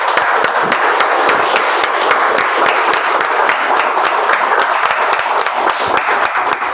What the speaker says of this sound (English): Let's give a huge round of applause for all of them.